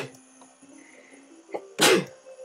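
A single loud, sharp sneeze bursts out near the end, close to the microphone, after a few quiet moments with faint game music in the background.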